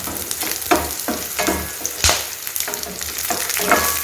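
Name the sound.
sautéing fennel, cinnamon and cloves in a pan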